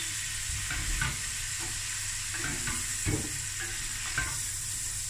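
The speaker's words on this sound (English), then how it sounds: "Stir, stir, stir." A prawn mac and cheese sauce with parsley and paprika being stirred in a pan, a continuous sizzle under repeated scraping strokes of a spoon.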